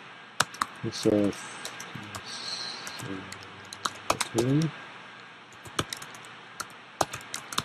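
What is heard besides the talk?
typing on a computer keyboard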